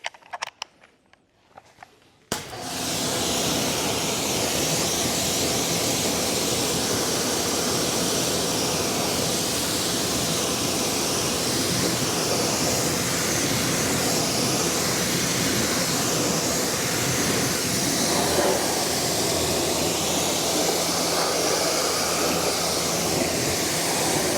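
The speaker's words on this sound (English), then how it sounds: "I'm going to get this rinsed down, and then we'll do the other three" Water spray rinses down the wheels of a Lucid Gravity Dream Edition during a car wash. After a quiet start with a few clicks, a loud, continuous, close hiss of spray runs to the end.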